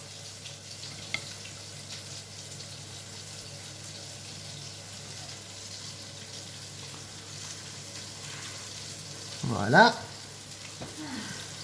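A mackerel fillet frying in a pan gives a faint, steady sizzle throughout, with a brief louder clatter near the end and a voice speaking briefly.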